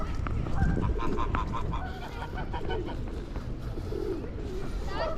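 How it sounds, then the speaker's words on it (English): Many birds, geese and pigeons among them, call over one another beside a flooded river after Storm Henk in Stratford-upon-Avon, a dense steady chorus close by with a few louder honks rising out of the mix. "Lots of birds everywhere."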